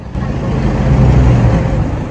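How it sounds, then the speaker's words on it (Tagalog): Vehicles pass along busy Lower General Luna Road in Baguio City, a loud continuous engine rumble swelling as traffic moves close by, with no speech. "Dito maririnig ang tunog ng sasakyan at mga taong dumadaan."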